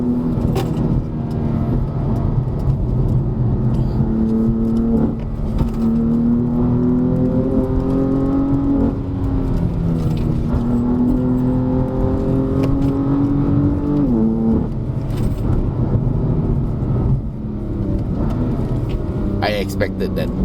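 BMW M4 fan car pulling hard in third gear on a mountain test drive at Genting, the engine droning loudly and rising steadily in pitch, with a brief dip near the end, while someone talks over it.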